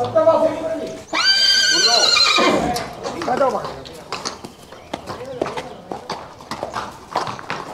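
Horses at a horse fair in Spain whinny loudly once, then hooves clip-clop in an irregular rhythm on hard ground while voices murmur in the background.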